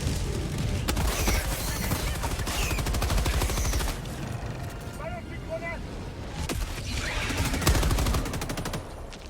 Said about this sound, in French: Là-bas, ma mitrailleuse.